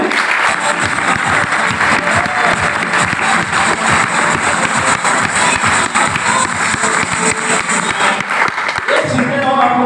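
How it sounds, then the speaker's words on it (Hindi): A large seminar audience applauds loudly and steadily for nearly ten seconds, a dense wall of hand claps with faint crowd noise, before it cuts off abruptly. "अपने लिए एक बार जोरदार क्लैप कर लीजिए।"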